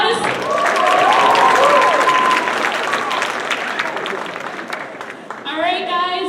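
Loud, sustained applause from a sizable crowd, steady clapping that slowly thins out before voices come in near the end.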